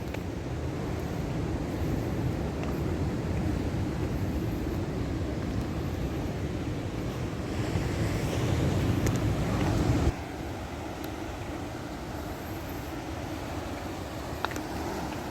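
Wind buffets the microphone over a steady wash of surf at Jujukan beach in Paranggupito, a continuous broadband roar that swells briefly before easing back to a constant rush.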